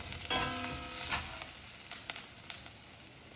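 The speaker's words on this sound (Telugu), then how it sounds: "ఆనియన్స్ ఈ మాత్రం వేగితే చాలండి" Onions frying in a pan for an aloo gobi: a fairly quiet, even crackling sizzle runs throughout, dotted with several sharp clicks and taps from stirring.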